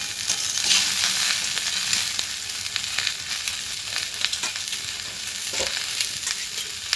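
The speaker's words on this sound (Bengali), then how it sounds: "আলুগুলো দিয়ে আলু বড়ি একসাথে ভালো করে কষাবো, যাতে আলু থেকে সব জলটা বেরিয়ে যায়" Potatoes and dried lentil bori stir-fried together in a pan for a poppy-seed dish, a steady close sizzle broken by scraping spatula strokes and occasional clinks, no talk.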